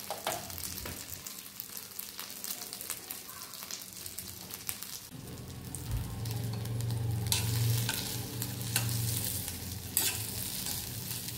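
Chicken pieces fry and sizzle in hot butter with garlic, with scraping and stirring in the pan; the sizzle swells louder halfway through.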